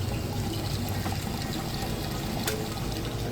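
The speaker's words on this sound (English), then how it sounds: "You can hear it running that drain nice and fast." Water drains from an Amana direct-drive washing machine as a steady, full gushing and pouring rush that stays constant throughout, close and continuous, with a low pump hum underneath.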